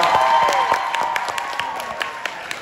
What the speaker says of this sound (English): Big round of applause for the winner.